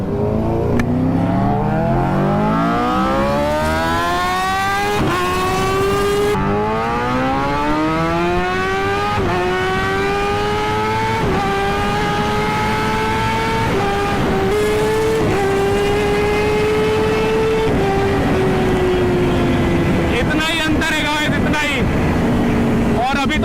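A superbike revs up through first gear, its engine whine climbing steadily and loudly over many seconds with brief dips, while a rider's voice is heard over the rushing engine.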